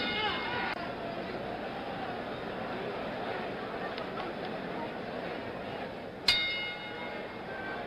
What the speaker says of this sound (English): The bell for round 4.